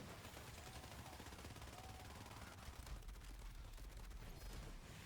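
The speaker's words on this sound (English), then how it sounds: "Wow, I am getting shot by a lot of things currently." Rapid, dense gunfire from many enemies in Borderlands 3, a constant crackling barrage of overlapping shots, quite faint and without pauses.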